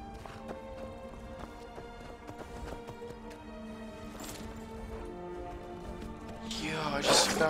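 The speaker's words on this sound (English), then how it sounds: "Oh, is that a wild horse?" A wild horse in the video game Skyrim, heard as steady clip-clop hoofbeats running along at moderate distance, with a rising, louder clatter near the end and game music and ambience underneath.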